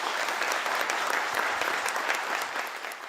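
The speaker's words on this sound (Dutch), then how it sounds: "alvast een groot applaus" Applause for newly sworn-in provincial council members in Zeeland, a dense, steady clapping from a seated assembly that stays loud and even throughout, tapering slightly at the end.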